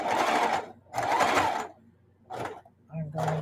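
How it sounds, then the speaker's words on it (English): Sewing machine back stitching a Christmas tablecloth made from gift fabric, stitching in short close bursts that start and stop, with a brief pause and a faint hum between runs. "I'm going to back stitch a little bit because I didn't stop at the end here"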